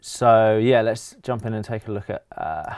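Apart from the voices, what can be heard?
No distinct noise like a dog, phone or traffic.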